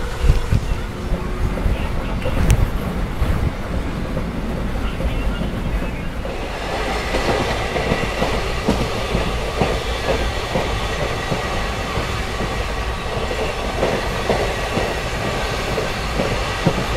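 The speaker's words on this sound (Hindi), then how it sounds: "डाउन ग्रेडियंट से ट्रेन उतर रही है।" Bengaluru-Mumbai special train rolling down a gradient, with a loud, steady rumble and rhythmic clatter of wheels over rail joints heard from on board, a sharp knock near the start, no speech.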